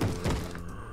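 A zombie in a video game bangs on a wall, giving a loud, close, dull thunk followed by a fading low rumble.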